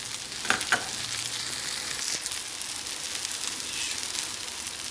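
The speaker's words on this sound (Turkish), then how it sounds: "Pirinçlerimi de fazla uzun kavurmayacağım. Bir iki dakika kavuracağım." Rice sautéing in a hot pan for a stuffed pepper dish, a steady, close frying crackle with a couple of soft stirring knocks near the start.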